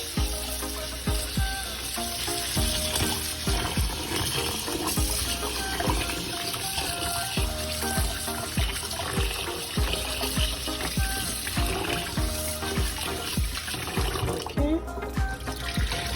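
Tap water runs steadily and loudly into a pot of rice being washed, a continuous splashing rush with small clatters, close by and without talk.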